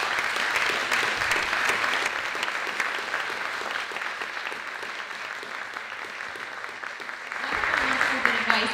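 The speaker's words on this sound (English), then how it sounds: "Let's give Ron another big round of applause." Audience at a keynote talk breaks into sustained, dense applause that fills the room at steady volume, then swells briefly near the end.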